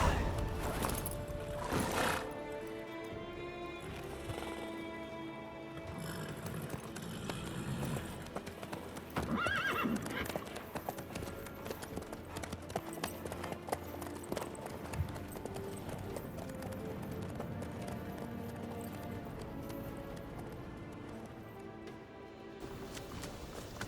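In the video game The Witcher 3, a horse's hooves clip-clop in a steady gallop rhythm with intermittent neighs and whinnies, under a music bed and occasional voices.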